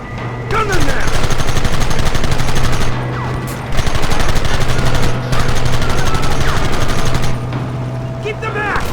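Gunfire in the video game Red Dead Redemption: loud, dense volleys of rapid shots go on almost without a break. Shouting voices mix in with the barrage.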